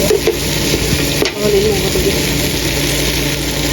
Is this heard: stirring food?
yes